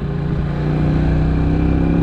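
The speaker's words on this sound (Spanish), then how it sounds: "les voy a enseñar igual cómo vas en terracería esta motito" An Italika DT 125 motorcycle drones steadily at close range while riding on a dirt road, its engine hum holding even with a slight rise in level.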